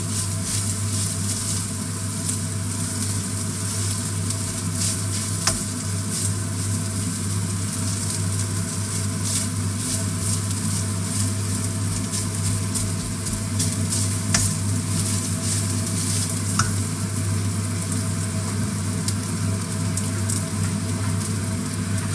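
Onions sizzle steadily in a frying pan while they are stirred, making a dense, continuous frying hiss with a low hum underneath. The sound is close and even throughout, with no voices.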